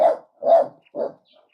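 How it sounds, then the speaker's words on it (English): Three loud dog barks close by, evenly spaced with short silent gaps between them. "Sorry for the barking."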